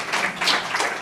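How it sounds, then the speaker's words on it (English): Brief, tepid applause from an audience at a talk: a short scattering of claps lasting about a second, modest in volume, with no one speaking. "By your tepid applause"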